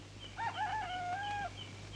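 A single rooster crows once, a clear, fairly faint call lasting about a second against a quiet background with a low steady hum.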